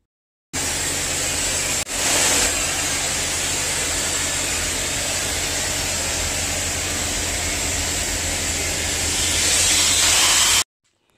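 Sandblaster blasting the timber roof framework during a roof renovation, a loud continuous hissing rush over a steady low engine drone, running unbroken for about ten seconds after a sudden start.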